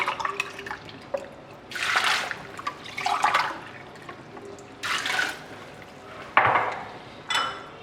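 Water splashes and pours into a pot in several short bursts, with light clinks of cookware in between, close by and without speech.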